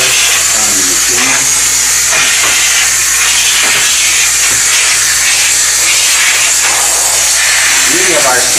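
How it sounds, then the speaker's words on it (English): A steam cleaner hisses steadily and loudly while cleaning the chrome surface and grills of a cafe machine, a continuous broadband rush with faint shifting tones, no pauses. "The beauty of our steam is we're able to penetrate down into the cracks and the crevices of this chrome surface"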